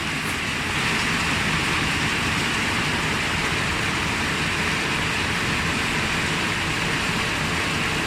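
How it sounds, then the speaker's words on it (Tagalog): Steady rain hisses and patters outdoors through the whole stretch, a dense broadband wash with a low rumble underneath, during the rainy season beside a Honda Click 125i motor scooter. "Maulan na naman."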